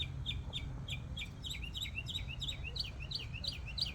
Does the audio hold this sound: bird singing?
yes